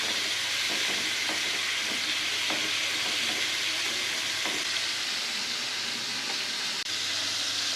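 Large prawns frying in hot oil in a pan, a steady close sizzle with faint scraping clicks as they are turned over.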